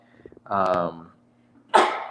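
One person sneezes close up: a drawn-out voiced gasp builds, a brief pause follows, then a sharp, loud burst ends the clip.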